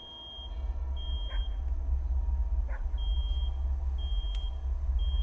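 An electronic alarm beeping inside the indie horror game Psalm 5:9-13, with repeated high, thin tones in short bursts over a steady low hum, fairly quiet, with no talking.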